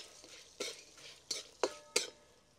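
Moringa leaves sautéed in a pan with a pinch of asafoetida, a utensil scraping and stirring in four or five distinct strokes over a faint background sizzle, close and fairly quiet, with no talking.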